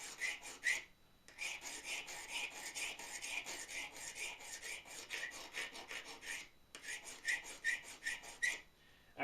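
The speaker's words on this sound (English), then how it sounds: "Hand grinder." Pottery trim tool sharpened by hand on a diamond combination grinder, quick repeated rasping strokes in a steady back-and-forth rhythm, close and fairly quiet, broken by two short pauses, with no talk.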